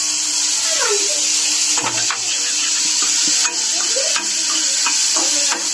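Chopped garlic and ginger fry in butter in a small kadai, giving a steady bright sizzle with occasional scraping stirs, close and continuous.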